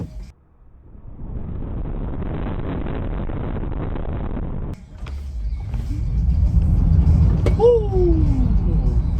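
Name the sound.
Tesla Model Y driving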